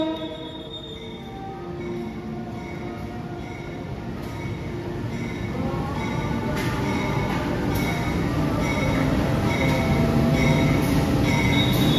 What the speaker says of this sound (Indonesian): Kereta api Bangunkarta dari Jombang tujuan Pasar Senen, Jakarta teman-teman.